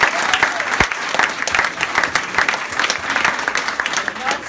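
A crowd applauding steadily at a political campaign headquarters event, dense clapping that stays loud and continuous throughout, with no pauses.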